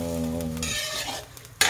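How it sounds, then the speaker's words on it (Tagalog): Bicol Express being stirred in a pot gives a short scraping and bubbling bout that settles into a soft simmer, with a sharp clatter right at the end. "ayan haluin muna natin"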